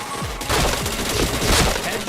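Rapid bursts of gunfire from a shooting video game ring out continuously at close range, loud and dense with overlapping shots, with faint voices beneath.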